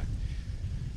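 A brief, strong gust of wind by the water in Amsterdam, heard as a short, steady low roar of buffeting against the microphone.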